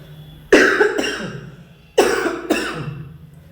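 Two separate bursts of coughing, each a pair of sharp, loud coughs close to the listener, with quiet pauses between.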